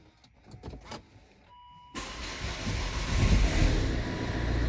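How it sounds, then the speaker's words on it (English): A Volvo's key is turned to switch the ignition on during ABS module work, with a few sharp clicks, a short electrical tone, then a sudden steady whirring hum that swells and holds. "Turn our ignition on."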